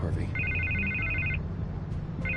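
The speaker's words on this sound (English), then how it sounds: "I can't get the phone to stop ringing." A telephone rings inside a Batman video game, a bright electronic trilling ring repeated in two bursts over a steady low background hum.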